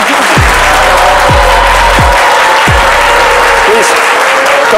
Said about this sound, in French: Merci d'applaudir très fort, s'il vous plaît.